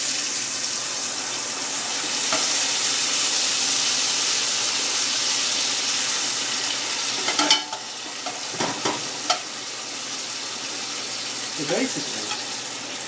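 Beans frying in a pan for Mexican refried beans, giving a steady broadband sizzle and stirring noise throughout, with a few sharper splatters and clatters near the end while a person briefly talks.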